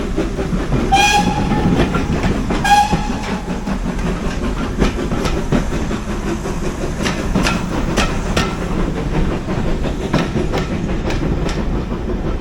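A diesel multiple unit train at a heritage railway rumbles steadily close by with clickety-clack wheel noise, and two short horn blasts sound near the start.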